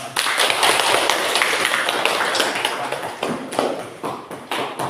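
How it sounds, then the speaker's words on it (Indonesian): Applause for a presenting student group at a university teacher-training session in Makassar: dense, steady clapping from a small room of people, close and continuous for the whole stretch, with scattered individual claps standing out near the end. "maka kita beri aplaus untuk kelompok"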